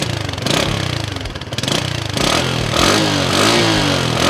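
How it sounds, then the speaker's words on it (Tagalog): A SYM Bonus semi-automatic motorcycle engine starts up close by and revs repeatedly, its loud mid-pitched clatter rising and falling between throttle blips. "Napaka-smooth ng engine nitong SYM Bonus na to"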